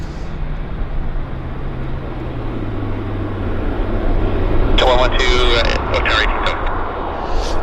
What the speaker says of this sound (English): There's a Westjet taxiing out.